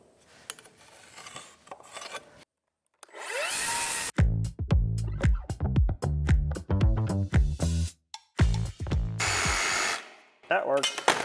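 A Sawzall reciprocating saw cuts wood while a post-and-beam firewood shed is being built, giving loud, rasping bursts in short runs with brief pauses between strokes.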